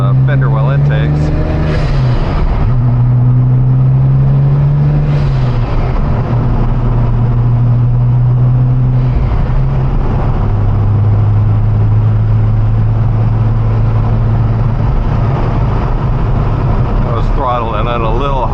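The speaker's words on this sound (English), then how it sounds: "Throttling it a little hard to overly exaggerate the intakes" Porsche 997.1 Turbo with fenderwell intakes, the engine revving hard and roaring through several climbing pulls and shifts, loud and close from inside the cabin as someone talks over it.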